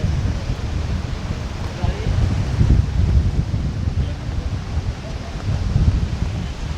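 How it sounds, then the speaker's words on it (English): Very strong wind at Legian Beach, a steady loud roar of gusting wind buffeting the microphone, with surf in the background and no clear talk. "They're all facing to the hotel now because the wind is so strong."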